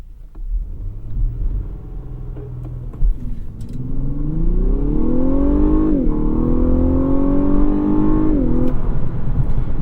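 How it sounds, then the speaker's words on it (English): A 2021 Lexus LS 500 launches hard with traction control off, its engine note rising steadily in pitch through a gear change as the car accelerates, loud and close over road rumble, with no talking. "see if we can get a decent launch here with traction control off"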